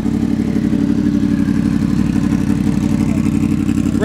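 A motorcycle fitted with an R1 engine idles loud and close, a steady throbbing rumble with a clattering mechanical edge running unbroken through the short clip.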